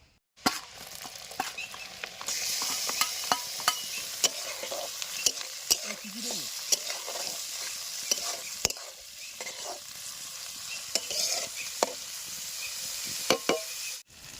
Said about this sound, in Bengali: এবার চিংড়ি মাছগুলো একটু ভেজে নেবো সঙ্গে একসঙ্গে